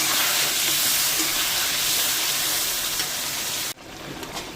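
Spiced curry with papaya and potato for a fish curry, sautéed in a pan, gives a loud, continuous sizzling hiss that cuts off abruptly, leaving quieter faint crackles.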